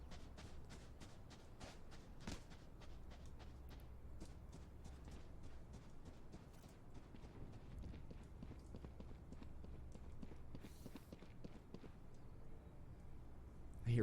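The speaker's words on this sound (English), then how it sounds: "I hear footsteps, but I don't know where they're going, Mimi" Rapid footsteps from several players in a Valorant-style tactical shooter match, a steady run of quick, even steps throughout, fairly close and moderately loud, with faint background game noise.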